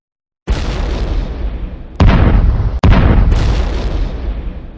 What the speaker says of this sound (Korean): 어뢰를 맞은 항공모함은 크게 휘청이고 곧 항공모함의 선미 쪽으로 불길이 옮겨붙었다.